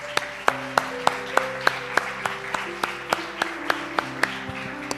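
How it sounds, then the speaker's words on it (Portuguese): A church congregation claps in steady rhythm, with sharp regular beats about four per second over sustained musical tones, joining in praise during a sermon. "Vamos aplaudir o Senhor por esse texto."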